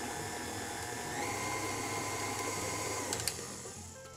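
An electric mixer whirs steadily through chocolate chip cookie dough, a continuous close motor drone that shifts slightly in pitch partway through and carries on without talk.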